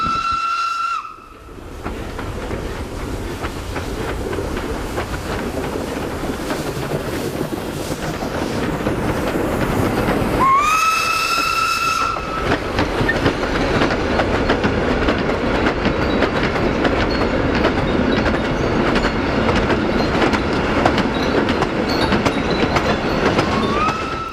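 A 1950s-era steam train rumbles along the rails with steady clattering, and a loud steam whistle blows twice, once briefly at the start and again midway.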